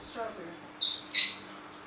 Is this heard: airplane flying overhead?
no